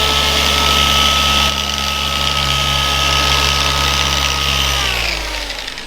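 A car detailing polisher with a wide 21mm orbit runs continuously in a loud, close motor drone with a steady hum, dipping and winding down slightly near the end.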